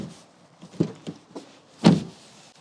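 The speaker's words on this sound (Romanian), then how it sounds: "Hai să auzim și cum se închide o mașină făcută în Coreea." One solid door thud of a SsangYong (KG Mobility) Tivoli car lands close by, preceded by a few lighter clicks and handling knocks.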